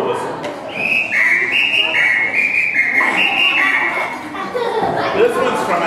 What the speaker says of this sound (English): This one's also from Brazil. It's called a samba whistle.